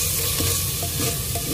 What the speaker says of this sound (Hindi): मसाले को भून लेते हैं।